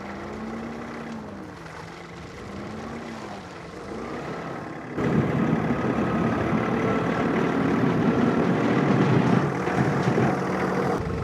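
A John Deere 3046R compact tractor's diesel engine runs steadily while driving on a rocky driveway, a low droning rumble that wavers in pitch early, then grows louder and rougher as the tractor works on.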